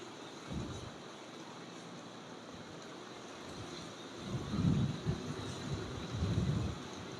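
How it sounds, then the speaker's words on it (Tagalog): Strong wind buffeting around a DJI Flip drone outdoors, a low rumbling roar that swells in gusts, louder toward the end, with no speech. "Dahil malakas ang hangin eh."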